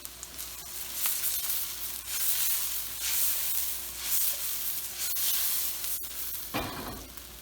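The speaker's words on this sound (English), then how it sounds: "And that's being seared off in the bacon grease" Whitefish sears in bacon grease with a soft, steady hiss that swells and fades in waves, broken by a few sharp crackles and one louder burst of sizzle near the end.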